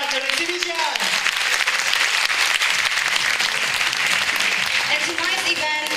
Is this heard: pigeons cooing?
no